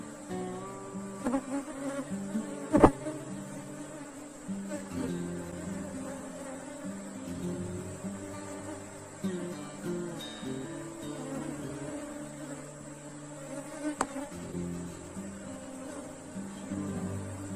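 Honey bees buzz steadily around a beehive, a dense, droning hum with individual insects whining past and occasional sharp knocks near the box.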